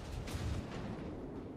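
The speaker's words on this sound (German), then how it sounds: "Die Sekundären, die hier schießen." Warship secondary guns firing in the naval video game World of Warships, a dense rumbling barrage of booms that blurs into a continuous loud roar.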